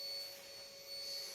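A vacuum cleaner running at a steady, faint whine with a constant motor tone, heard alone in a quiet room.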